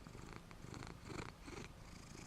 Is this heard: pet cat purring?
yes